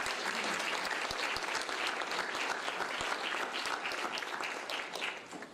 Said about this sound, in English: I'd like us all to give them a round of applause for all their hard work